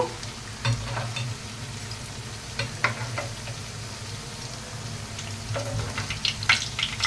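Semolina evening snacks fry in oil with a soft, steady sizzle, broken by scattered small pops and spatters, with no voices.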